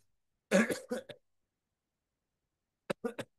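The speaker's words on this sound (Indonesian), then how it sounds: "Maaf ya, ini saya batuk." A short burst of coughing near the mic, followed after a pause by a few quick, softer coughs; no talking.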